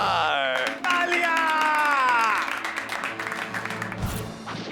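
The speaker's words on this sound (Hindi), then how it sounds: "तालियां।" Audience applause breaking out in a comedy show, a burst of clapping with scattered cheers that fades gradually while a strong tonal voice or music rides over the top.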